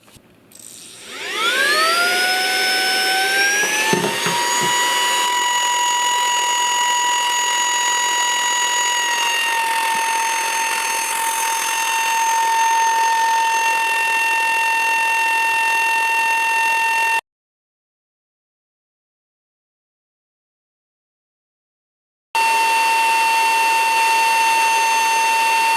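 A Saker 3-in-1 cordless vacuum, model HL107B, whines up to speed on high suction and holds a loud, steady, high-pitched motor tone close by. It cuts out briefly, then resumes at the same pitch, with no talking.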